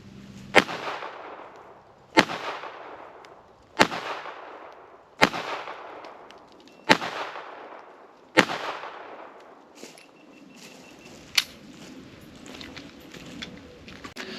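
A Ruger LCP pistol fires full metal jacket rounds outdoors in eight loud, evenly spaced shots roughly every one and a half seconds, each one a sharp crack followed by a short echoing decay.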